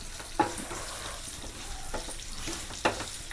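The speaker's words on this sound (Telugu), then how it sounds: "ఇప్పుడు అందులోకి తిరిగేసేద్దాం పోపు" A pongal tempering sizzles softly in a pan as it is stirred. Three distinct scraping strokes of the spatula rise above the steady frying crackle at a close, moderate level.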